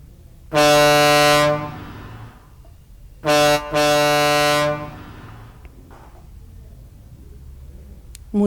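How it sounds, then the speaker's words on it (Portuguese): A truck air horn gives two long, loud blasts. The second starts with a brief break before holding steady, and no other sound is heard between them. "a buzina do caminhão"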